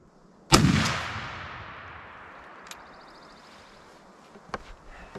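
A single loud, close 12-gauge shotgun blast fired at a turkey target 50 yards away, using a Jebs Headhunter .650 choke, with a long decaying echo rolling out afterward and a few faint clicks near the end.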